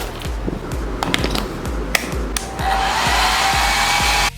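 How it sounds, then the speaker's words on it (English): A hair dryer blows hot air to soften the glue seal on a car headlamp assembly during an LED DRL retrofit, a steady loud whoosh that swells after a few light taps and clicks, running continuously to the end. "I don't have a heat gun, so hairdryer it is."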